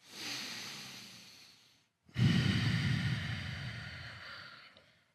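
Slow, controlled breathing in and out through the nose during an at-home yoga routine, a soft drawn inhale fading out, a brief pause, then a fuller, louder exhale, close and quiet with no talk.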